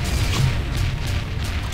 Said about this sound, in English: Beam turrets, open fire.